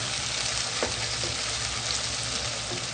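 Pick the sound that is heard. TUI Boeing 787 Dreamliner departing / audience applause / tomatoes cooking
tomatoes cooking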